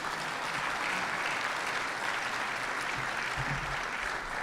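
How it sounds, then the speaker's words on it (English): Audience at a Mayor's Breakfast event breaking into sustained, dense applause that holds evenly throughout, loud and continuous with no speech over it. "Could we have a round of applause for appreciation for this?"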